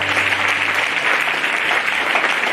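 A church congregation claps steadily together, a dense and continuous wash of applause filling the room from start to finish with no voices standing out.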